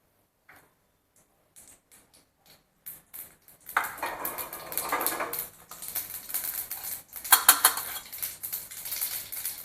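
A few faint isolated ticks give way to a dense, crackling sputter as half a spoon of mustard seeds hits hot oil for a yogurt tadka. The popping sizzle swells and peaks close by.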